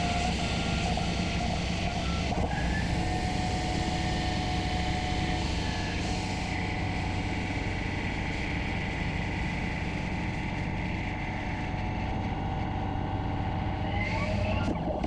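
A lathe takes a steady boring pass on a hardened 17-4PH H1025 stainless steel part, a continuous machine hum with a sustained tonal whine that holds evenly for the whole stretch, close by and with no one talking.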